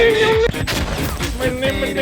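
Gunfire in a video game, several quick cracking shots in a short rapid sequence over music-like tonal background sound, loud and close.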